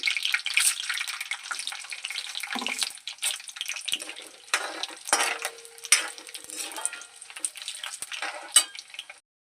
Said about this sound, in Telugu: ఆయిల్ వేడెక్కింది కదా ఇప్పుడు ఎండుమిర్చి వేసుకోవచ్చు